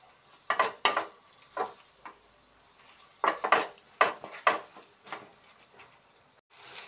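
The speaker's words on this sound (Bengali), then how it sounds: "সেইগুলি দিয়ে এখন মিশিয়ে নিচ্ছি ভালো করে।" Katla fish filling for stuffed kakrol being mixed by hand in a bowl, with several close, sharp clinks and scraping knocks in irregular bursts and quiet gaps between them, no talking.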